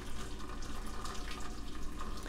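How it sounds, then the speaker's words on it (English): Water draining from the spout of a Baby Brezza food maker, a steady close splashing trickle that runs without break and without talk. "there's a little spout in there that we can use to Drain the water like so."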